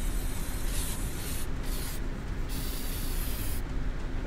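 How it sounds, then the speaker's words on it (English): An aerosol spray can paints in the inFAMOUS Second Son video game, giving a loud, continuous hiss that briefly cuts out several times between bursts, close and with no talking. "A man, a plan, and an aerosol can."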